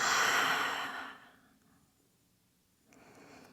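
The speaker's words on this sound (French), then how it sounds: "Un grand lâcher prise, on inspire. On expire." A long, slow breath out during a beginner yoga flow, soft and close, fading into quiet before a fainter breath begins at the end.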